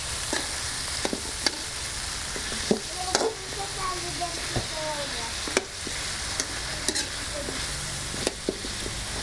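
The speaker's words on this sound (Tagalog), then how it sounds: "haluin po natin para maigisa" Beef caldereta sautéing in a pan, a steady broadband sizzle with sharp spoon clinks and scrapes at irregular intervals, close by, with no talk.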